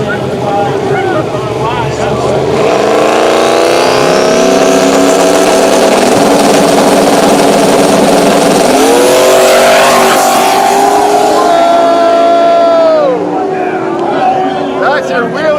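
A Chevy S10 runs down the dragway at KD Dragway during a cash-days drag racing event, its loud engine revving up through gears in rising and falling sweeps, with an announcer talking over the noise.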